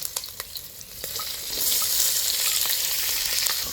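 Whole spices fry and sizzle in a pan, with a few sharp crackles and stirring taps at first, then a steady, bright hiss that swells and holds close up.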